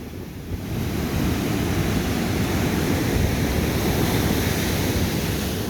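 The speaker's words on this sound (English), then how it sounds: "looking at some amazing waves" Pacific Ocean surf breaking on a state park beach, a continuous loud roar of crashing and washing waves with wind rushing across the microphone, no voices.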